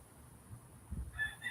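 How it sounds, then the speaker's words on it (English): A rooster crows in the background of an outdoor yard with trees and a garden hose, a faint, distant call rising near the end of the moment with no talking. "I hear that rooster in the background."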